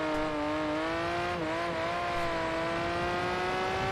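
An 80s or 90s supercar rounds a track turn, its engine holding a steady, close, loud drone with a slight dip in pitch partway through and a faint tire whir beneath, no voices.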